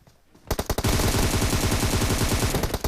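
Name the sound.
gunfire in a video game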